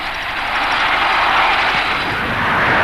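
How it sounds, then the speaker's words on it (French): A small WA-116 helicopter drones overhead in 1962 archive footage, giving a loud, steady, rushing engine roar that stays even throughout with no voices. "Le petit hélicoptère WA-116, par exemple, maniable, rapide"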